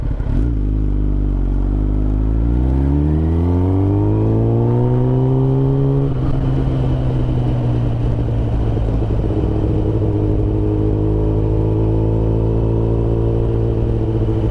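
Kawasaki ZX10R motorcycle engine heard while riding, loud and close, rising steadily through the revs before settling into a sustained rumbling drone with wind noise.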